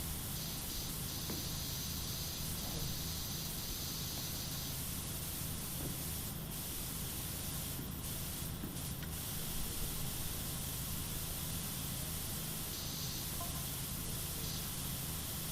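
A pressure washer sprays in PowerWash Simulator, producing a continuous, even hiss with a few brief bursts of a sharper jet, steady throughout with no voices.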